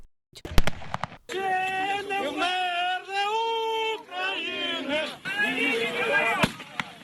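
Several sharp gunshot cracks from Russian troops ring out at the start, followed by Ukrainian soldiers singing their national anthem together in unison while marching into a garrison in Crimea, with another lone shot near the end.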